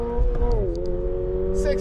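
A car engine roars during a 0-60 launch, either a 2002 Pontiac Firebird Firehawk or a 2024 Subaru BRZ tS. The loud, steady engine drone drops in pitch partway through, as at a gear change, then holds.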